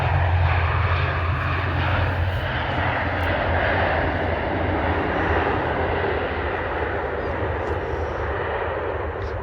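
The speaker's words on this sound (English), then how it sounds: "So it's an Aer Lingus ATR. There, a nice soft landing." An Aer Lingus ATR turboprop airliner touches down in a soft, short landing at an airport on a cold day, its engines giving a loud, steady broadband roar that slowly fades, heard from a distance with no talking.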